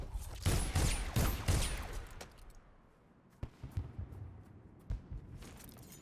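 Pistol gunshots in the video game Dishonored: a quick burst of several loud overlapping shots at the start, followed by fainter scattered impacts and echoes trailing off.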